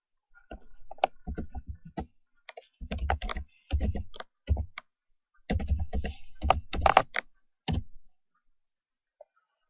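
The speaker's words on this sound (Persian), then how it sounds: "اسمش رو تایپ بکنید." Quick clustered bursts of keystrokes on a computer keyboard, close and crisp, with short pauses between groups and a final faint tap after a silence.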